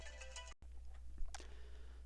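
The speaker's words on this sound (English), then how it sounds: "Sorry, got a phone call." A phone ringtone for an incoming call sounds faintly and briefly, a short tonal ring cut off by a gap, with no talking.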